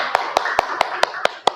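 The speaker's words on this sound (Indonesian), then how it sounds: "Oke, tepuk tangan untuk kelompok" Seven sharp, evenly spaced claps ring out in a steady rhythm over low room noise, a group applauding classmates' group 4 in a classroom.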